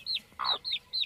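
Newly hatched chicks, including a gray chick from a large Orbit hen breed, peep in a few high, rising chirps close by, with one lower, throatier call in between, alone without talk.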